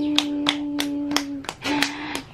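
Hands clap sharply several times in a steady rhythm, close by, over a sustained background tone.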